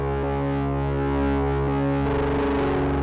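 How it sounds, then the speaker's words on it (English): A beat sample pushed into distortion by an LA-2A compressor with its gain cranked, sustained tonal chords that turn grittier and harsher partway through, loud and steady with no talking. "you can also create a distorted effect if it just boosts the gain up all the way"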